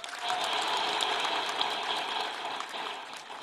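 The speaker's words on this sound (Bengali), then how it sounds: "এই ঐতিহাসিক ঘটনা যারা নায়িকা, তাদের জন্য একটা জোরে হাততালি দিই।" Loud, sustained applause from a large audience honouring women at a speech by Dr Yunus, dense steady clapping filling the whole stretch with no voices on top.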